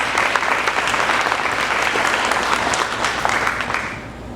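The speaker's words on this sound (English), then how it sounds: "please let's give her a round of applause for her service." An audience at a community recognition ceremony gives a round of applause, dense steady clapping from many hands that holds strong and then tapers off near the end.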